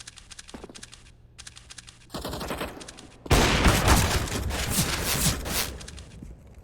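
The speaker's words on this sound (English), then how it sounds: "Ooh, Wipeout, nice shot" Competitive Counter-Strike match on the Mirage map, with bursts of in-game gunfire building into a loud, dense volley of rapid shots in the second half, all close and without talk over it.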